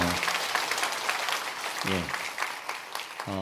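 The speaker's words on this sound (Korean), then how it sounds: "격려와 축복의 박수 한번 옆에 분에게 해주세요" Congregation clapping during a Sunday morning church service, a brisk wash of applause while a voice speaks over it in short bursts.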